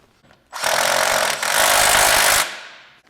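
Power tool runs in two sustained bursts, loud and close, while lift kit bolts are tightened on a 1997-2001 Honda CR-V during a 4-inch HRG Offroad lift install.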